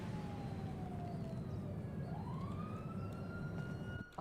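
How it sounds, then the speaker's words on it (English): Emergency vehicle siren wailing at a distance, a faint rising and falling tone sweeping over steady background noise, with no talk. "I hear sirens."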